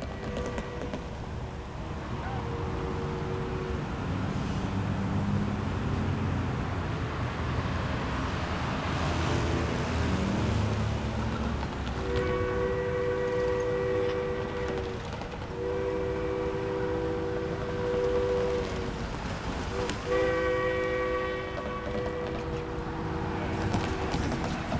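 Durango and Silverton steam locomotive 473 arriving, a steady loud rumble of the moving train with several sustained whistle blasts in its second half.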